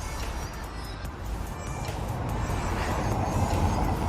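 A small fully electric car rolls along a street in Rome at night, a soft hum and tire noise swelling slightly as it passes amid steady city background noise.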